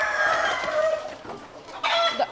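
Native Bangladeshi chickens cluck and squawk close by, a busy run of bird calls with a brief pause before a louder burst near the end.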